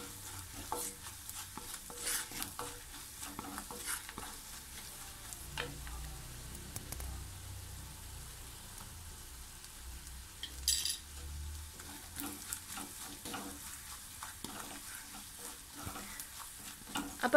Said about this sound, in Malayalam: ഞാൻ കുറച്ച് മഞ്ഞൾപ്പൊടിയും എരിവിന് ആവശ്യത്തിനുള്ള മുളക് പൊടി ഇട്ടിട്ട് അതിൻ്റെ പൊടികളെല്ലാം നന്നായിട്ട് മൂപ്പിച്ചെടുക്കുകയാണ്